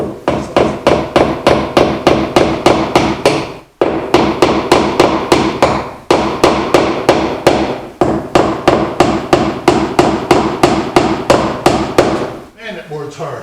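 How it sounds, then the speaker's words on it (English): Nails being hammered into a hard board outdoors, steady rapid blows in loud close bursts with short pauses between runs, each strike sharp and ringing. "I tap first one side in a little bit, the other side. I just keep on nailing it a little bit more and more."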